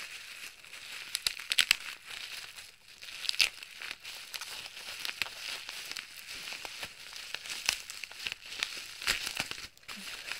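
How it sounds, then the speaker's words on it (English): Plastic parcel packaging is crinkled and crumpled as it is torn open one-handed, giving a steady run of close, crackly rustles with sharper bursts throughout. "It's not easy opening a parcel one-handed."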